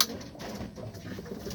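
Pigeons coo softly near a training box, low murmuring calls repeating at close range over a quiet background, with no talking.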